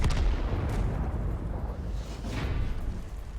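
KV-2 tank cannon in World of Tanks fires, a heavy low boom that rolls into a long rumbling tail, loud and alone with no talk.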